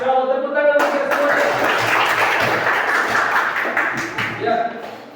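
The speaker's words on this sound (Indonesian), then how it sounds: "Masya Allah, tepuk tangan untuk semua." A class breaks into loud, sustained applause for everyone, a dense patter of clapping that follows a teacher's voice and fades as talking resumes.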